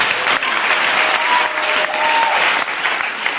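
A church congregation applauds during a Sunday service, steady, loud, sustained clapping from a large crowd throughout.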